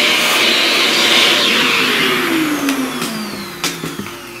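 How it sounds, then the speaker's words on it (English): A vacuum cleaner runs close by during a pastel drawing session, with a loud steady whine that drops slightly in pitch, followed by a few knocks and bumps as it moves. "let's vacuum up that"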